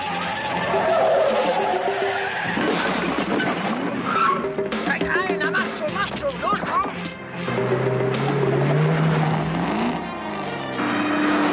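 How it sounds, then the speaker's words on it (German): Car speeding and skidding in a Manhattan film chase, engine roar with tire skids and squeals, loud and busy, mixed with music and shouted voices. "Gib Gas, Johnny!"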